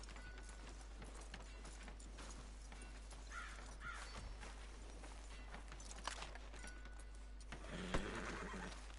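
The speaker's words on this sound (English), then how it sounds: "Tether the horse and I'll meet you across the street." A horse in the Red Dead Redemption 2 video game gives faint, distant neighs amid soft hoof clops and crow caws in a quiet outdoor setting.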